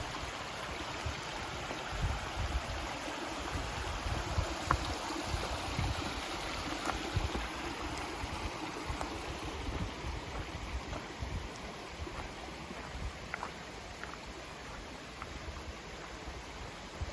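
Steady, broadband rushing of the Pigeon River flowing, continuous and fairly even throughout with no voices.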